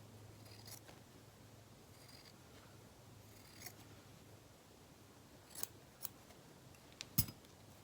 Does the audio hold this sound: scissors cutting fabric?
yes